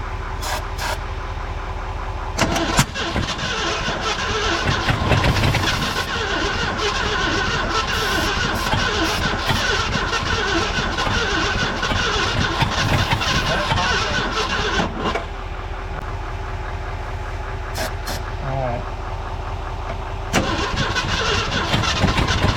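A 1976 Ford F-150 pickup, run on jumper cables, cranks and catches, then runs with a steady, loud mid-pitched rumble. Brief stutters and further cranking bursts come near the start and again later, with voices faintly in the background.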